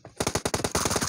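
Rapid automatic gunfire in the PUBG video game, about a dozen sharp, evenly spaced shots in one loud close burst.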